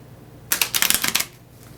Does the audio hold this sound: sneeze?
no